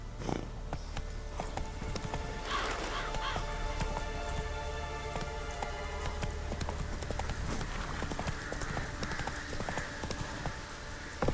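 Roach, Geralt's horse in The Witcher III, gallops with a steady, rapid clip-clop of hooves and an occasional snort, close and continuous over outdoor ambience.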